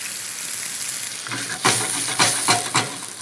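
Warmed broth poured into a sizzling pan of prosciutto and reduced wine sauce, a steady hiss swelling into several loud bubbling surges in quick succession, no talk.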